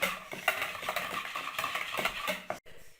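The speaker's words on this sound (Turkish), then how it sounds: "iyice yoğurdumu çırpacağım. Mayonezle beraber iyice karışsın" Yogurt and mayonnaise are whisked together in a bowl, giving quick, close clinking and scraping strokes in a busy rhythm that stops abruptly at the end.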